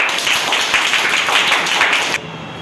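A classroom audience claps for a student's speech about manners. The applause is loud, close and continuous, then cuts off abruptly just before the end.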